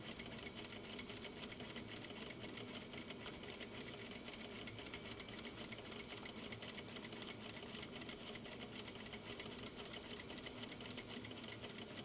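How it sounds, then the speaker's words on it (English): A sewing machine runs steadily in a continuous rapid whir of stitching, back stitching on a sewing project, close and even throughout with no pauses. "So you definitely want to back stitch."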